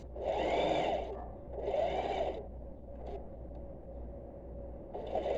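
Sewing machine stitching the side seams of trousers, running in two fast bursts of close, steady whirring with a pause between, then a lighter hum and a third burst starting at the end.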